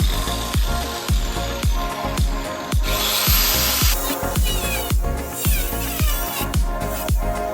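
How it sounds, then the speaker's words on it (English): Rusty seam on a Pontiac Fiero frame being cut with a power tool, close and loud, with a steady grinding whine broken by regular sharp rhythmic impacts about twice a second. "I'm gonna cut right along this seam down here"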